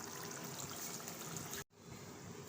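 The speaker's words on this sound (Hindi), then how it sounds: "थोड़ा सा पानी डाल देंगे इसके अंदर।" Water pours into a cooking pot of potato mince in a steady, close stream, cuts off abruptly for a moment, then resumes at a lower, softer trickle.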